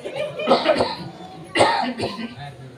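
Several coughs from a man during a religious talk, in two separate bursts, close and fairly loud with some throat noise between them.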